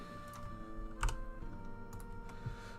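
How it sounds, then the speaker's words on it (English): Typing on a computer keyboard comes as soft, irregular clicks and taps over a faint electronic hum, with no voice. "Wish I wasn't so bad at typing."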